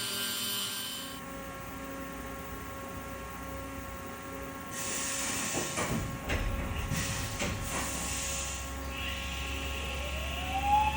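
The spindle of a 2022 Haas VF-3SS CNC vertical mill spins at high RPM, producing steady layered mechanical whining tones over a low hum, with a pitch that climbs toward the end.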